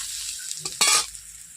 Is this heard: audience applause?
no